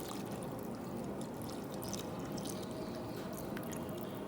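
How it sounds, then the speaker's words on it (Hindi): Milk poured into a pot of grated carrots for gajar halwa, a steady, continuous liquid stream with soft splashing at close range, no one speaking. "अभी मैं इसमें डालने लगी हूँ दूध।"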